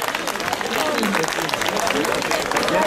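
An audience at a Circassian culture festival claps to welcome a guest to the stage, a dense steady patter of applause that carries through the whole stretch.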